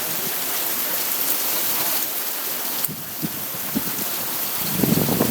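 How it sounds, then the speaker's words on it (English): Heavy rain pours in a dense, steady roar during a Bay Area thunderstorm in April, with a few louder drips and gusts over the constant wash and no voices. "If it was raining this hard, I hope you were talking."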